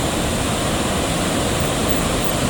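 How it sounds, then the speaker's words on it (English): Flood water crashes and surges against trees and collapsing buildings in a steady, dense roar of rushing water, loud and continuous with no voices. "the flood kept crashing against them"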